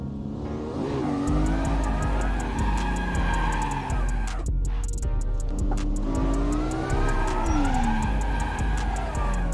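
A car in a driving video game drifts and spins out, the engine droning and revving steadily beneath a continuous loud tire squeal that rises and falls in pitch over several seconds.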